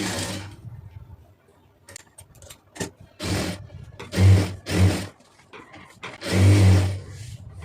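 A sewing machine stitching a lining blouse runs in short bursts of rapid mechanical whirring separated by pauses, the later runs longer and louder, close up with light handling clicks between.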